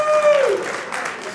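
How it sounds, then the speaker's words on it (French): Audience at a stock-market technical analysis seminar gives brief, fairly soft applause, a dense patter of claps over a short stretch, with a voice at the start that trails off as the clapping takes over. "On applaudit."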